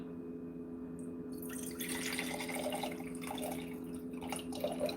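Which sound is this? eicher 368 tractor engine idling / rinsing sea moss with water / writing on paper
rinsing sea moss with water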